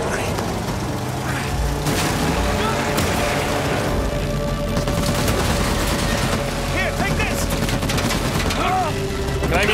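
Sustained gunfire fills a loud Uncharted 4 chase, dense and continuous under rumbling engine noise, with voices shouting over it.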